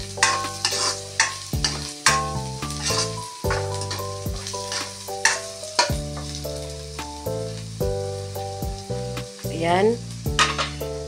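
String beans and vegetables being stir-fried in a pan for a Filipino ginisang gulay, with steady sizzling and repeated scraping stirs. Brief talk in Tagalog comes in once.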